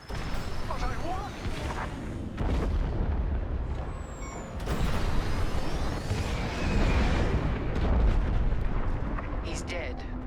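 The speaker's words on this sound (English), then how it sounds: "The frigate is about to explode." A frigate blowing apart in the Star Wars: Squadrons space-combat game, heavy rumbling blasts and booming bursts rolling continuously for about ten seconds, loud and dense, with voices talking over the chaos.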